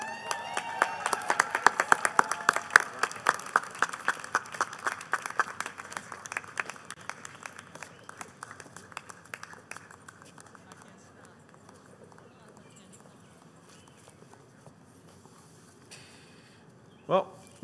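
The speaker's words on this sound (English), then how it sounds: "We did indeed give them a round of applause" Audience applause for graduates at a business school diploma ceremony, a crisp burst of many hands clapping that gradually thins and fades, with a few final claps at the end.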